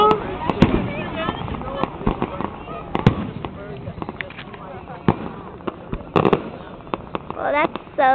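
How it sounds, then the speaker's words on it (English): Fireworks in the Webkinz video game for the Fourth of July, a series of sharp pops and bursts at irregular intervals over a soft background, with a person talking in between. "Fireworks are starting."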